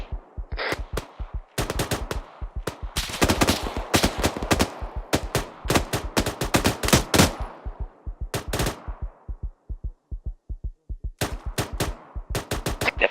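Gunfire rattles in ArmA 3 during a firefight, with rapid bursts and single cracks of rifle and machine-gun fire, loud and near, echoing sharply across open terrain with brief pauses between volleys.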